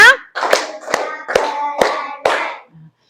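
Participants at a teacher training workshop clap together in a counted pattern, six firm claps in steady rhythm roughly half a second apart, close and distinct, followed by a short quiet tail.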